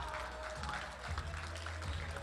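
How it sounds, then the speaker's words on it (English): An audience claps steadily at a forex trading event in Abuja during a prize spin, a dense wash of hands over a low, constant hum from the hall's sound system. "Please keep clapping."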